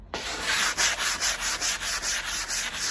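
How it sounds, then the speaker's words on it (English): Fine sandpaper scuff-sanding wood with the grain, a close rasping rub in quick regular back-and-forth strokes, about two per second, with no talk. "just a little bit of a scuff sand with the fine sandpaper just to make sure it's nice and smooth everywhere"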